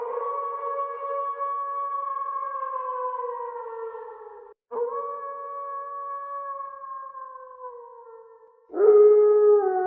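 Werewolf howling effect: long drawn, wavering howls in two sustained phrases with a short break, then a louder, sharper howl entering near the end, alone and eerie with no talk.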